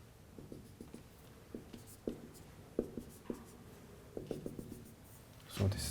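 Marker or chalk sketching a power spectral density plot on a lecture board, quick bursts of short taps and strokes in uneven groups, faint and close, with no talk.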